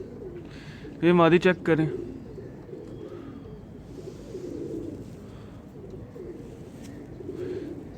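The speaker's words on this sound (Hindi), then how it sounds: "बड़ी हड्डी का कबूतर है।" Big-boned pigeons coo softly and repeatedly in the background, while someone speaks close by in Hindi over them.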